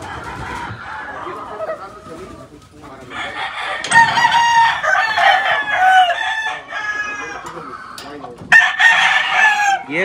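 A farmyard rooster crows loudly in repeated calls among hens clucking, with a person talking between and under the crows.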